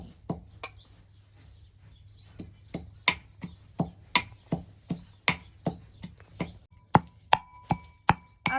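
Garlic cloves are crushed for sandage, heard as a steady series of sharp, close pounding strikes that grow more regular and quicker toward the end. Each strike lands hard against a solid surface, with quiet pauses in between.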